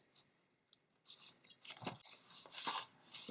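Close, quiet snips of scissors cut through a diamond wrap strand for a craft vase project, several short crisp clicks clustered over a few seconds.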